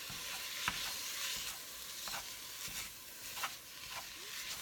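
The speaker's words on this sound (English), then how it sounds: "so while this is browning and I'm chopping it up a little bit" Ground beef browns in a pan with a steady soft sizzle, broken by occasional scraping taps as a utensil chops the meat apart, close and fairly quiet.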